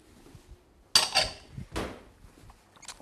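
Whole cumin, coriander and black mustard seeds tip into a cooking pot for a Kerala spiced pumpkin soup, giving one sharp clattering rattle followed by a second, softer scatter of seeds, close and dry with no talk.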